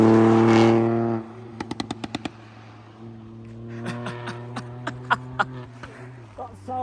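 A Ford Fiesta ST MK8's engine and exhaust give a loud opening rev, then settle into a steady drone broken by a rapid string of sharp exhaust pops and, later, scattered crackles.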